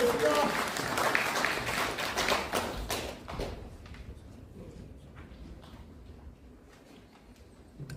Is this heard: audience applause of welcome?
yes